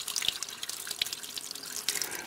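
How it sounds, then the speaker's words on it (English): Spring water fed by gravity from a creek, through a reservoir and a pipe, runs into an outdoor sink, making a faint, steady trickle with a few soft drips over a quiet background. "So the water comes from the creek to the reservoir through a pipe to the sink and then flows back down into the creek."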